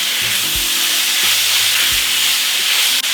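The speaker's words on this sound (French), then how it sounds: "Le bœuf, le voilà, le bœuf dans le wok" Beef stir-frying in a hot wok gives a loud, steady sizzle and hiss throughout, with low scraping knocks of stirring underneath and no talk.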